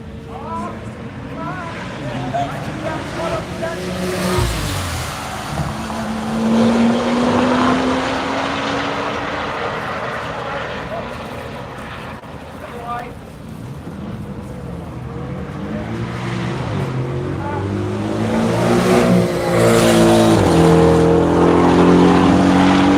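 A Corvette race car runs on a track during the Tire Rack One Lap of America event. Its engine drones with rising and falling pitch as it drives and pulls away, with faint voices in the background.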